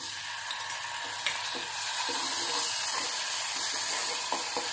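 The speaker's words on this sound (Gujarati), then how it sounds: "હવે આપણે એના અંદર અદરક લસણની પેસ્ટ નાખશું" Ginger garlic paste frying with browned onions in a pan for curry leaf chicken, a dense continuous sizzle and hiss close up, with a few faint stirring clicks and no voices.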